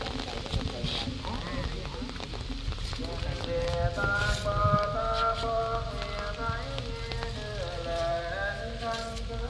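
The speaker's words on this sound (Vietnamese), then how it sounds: "trời đang mưa nè cô chú anh chị đang mưa trời mưa lớn rồi" Heavy rain pours outdoors at a grave site, a steady loud hiss filling the whole clip beneath a voice and some tonal, music-like sounds.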